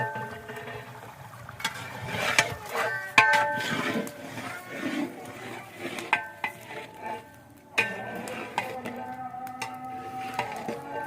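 Chicken for degi korma stirred in a pot of frying garlic and ginger, with a spoon scraping and clattering against the metal over a low sizzle, bursts of clinks and knocks coming irregularly and close.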